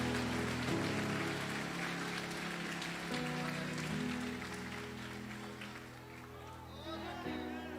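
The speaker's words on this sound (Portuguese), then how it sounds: "Aplauda ele aqui nesse lugar." A church congregation applauds during an evening vigil service, sustained clapping spread through the room over low music, with a preacher speaking across it.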